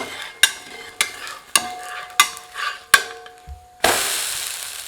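Samba wheat rava adai dosa cooks in oil on a pan. A spatula taps and scrapes in a few sharp, evenly spaced knocks, then the dosa is flipped and a loud, steady sizzle rises and holds.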